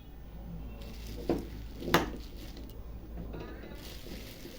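Eggs go into a pot of boiling new potatoes with two soft, close knocks a moment apart, over a quiet background.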